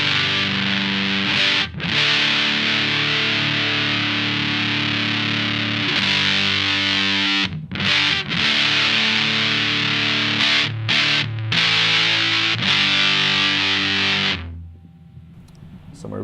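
An electric guitar played through a distortion pedal gives a loud, fuzzy, sustained chordal wall of sound, broken by a few short gaps before it fades at the end, with no talk.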